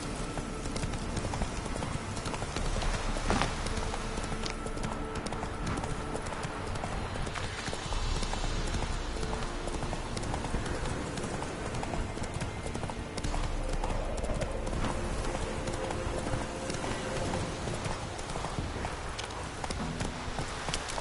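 Roach the horse gallops in The Witcher video game, hooves drumming in a fast, steady clip-clop that runs the whole way through, close and loud over a dense bed of game music and ambience.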